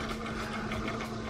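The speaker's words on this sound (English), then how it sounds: "I hear the servo pulling" A small servo on an RC bait boat's bait-release mechanism whirs with a steady, buzzing mechanical hum, continuous and fairly close, with no voices over it.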